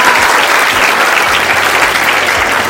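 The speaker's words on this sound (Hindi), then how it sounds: "जोर से तालियां बजाएं, संतुष्टि ना करें ताली बजाने में" Loud, dense applause from an audience at a health camp event, continuous steady clapping filling the whole stretch with no speech over it.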